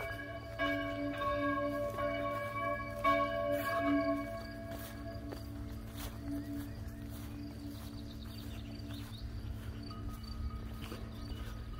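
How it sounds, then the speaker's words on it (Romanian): Church bells ring in Italy, several bright tolls in the first seconds fading into a sustained, resonant hum, with quiet outdoor background throughout. "Oare pune YouTube-ul copyright și pe clopotele de la biserică?"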